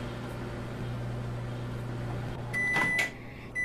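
Microwave oven running inside the video game Job Simulator, a steady low hum lasting several seconds, then a bright electronic beep and clatter near the end.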